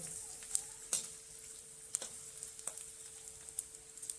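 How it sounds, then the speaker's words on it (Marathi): Edible gum (dink) frying in oil in a pan for methi ladoos, a faint steady sizzle broken by a few sharp crackles and pops. "सर्व डिंक आता आपला तळून झालेला आहे"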